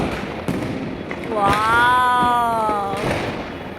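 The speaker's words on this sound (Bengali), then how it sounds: "ছাদে এসে বোম ফাটছে এত চারিদিকে মানে চারিদিকে বোম ফাটছে" Diwali firecrackers bursting all around a rooftop: scattered sharp bangs at varying distances, with a wavering tonal whistle between them and faint voices in the background.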